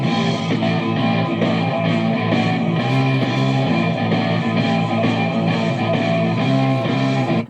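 Loud, dense live hard rock playing from an 8-track tape, continuous with driving drums, distorted guitars and steady full-band energy throughout, no talking.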